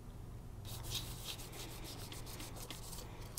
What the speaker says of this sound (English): All right, I've been rubbing on this thing for quite some time.